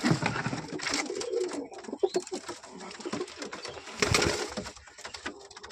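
Domestic pigeons kept at a home coo close by in soft, repeated throaty phrases that overlap one another, with a few fluttering rustles between calls.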